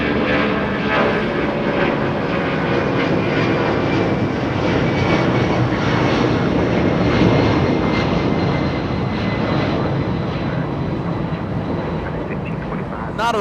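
A FedEx Boeing 757-200 jet takes off at Los Angeles International Airport in the evening, its engines roaring loud and steady throughout with a broad rumble, and a voice talks briefly over the noise.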